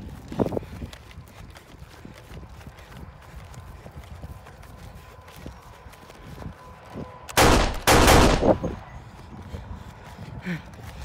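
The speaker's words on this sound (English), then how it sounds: "Fire a few rounds, go!" Gunfire in an edited war fight scene: a loud, dense burst of shots erupts near the end, standing out sharply from a quieter, rustling background.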